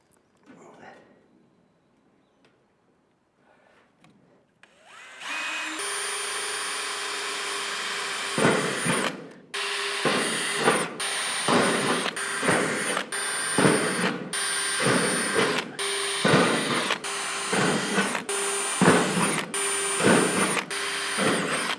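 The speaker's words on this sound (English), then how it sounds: "I think I'm going to drill some real small pilot holes everywhere these go first" A power drill whirs steadily after a quiet start, broken by repeated short pauses and restarts as several small holes are drilled one after another.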